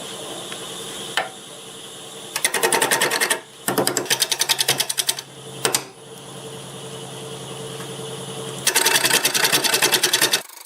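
A wood lathe spins a laurel root ball at about 622 RPM, with bursts of loud, rapid chattering as the tool bites the uneven wood, broken by quieter stretches of steady motor hum.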